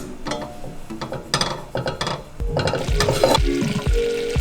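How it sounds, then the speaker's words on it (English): Four tablespoons of butter melting in a pan, a soft sizzle beneath repeated scraping and stirring strokes with a few clinks of utensil against metal, close and fairly loud. "I'm going to take my 4 tablespoons of butter and put them in the pan"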